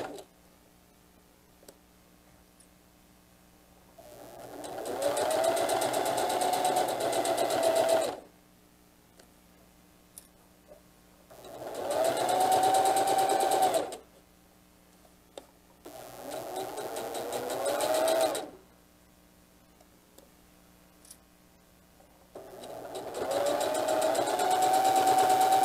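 Home sewing machine stitching a small back tack on a diaper bag tote, running in four separate bursts of a few seconds each, with quiet gaps between them.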